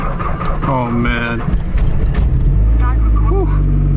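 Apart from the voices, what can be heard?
project car engine starting in winter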